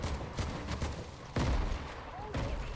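Gunfire in a tactical shooting video game with a shotgun, several sharp bursts and a volley of shots at mid distance, mixed with game noise and some talking.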